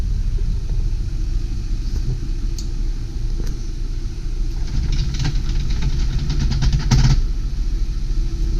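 A 2003 Ford E450 passenger bus idles right after start-up with a loud, steady low rumble throughout and a few faint rattles on top.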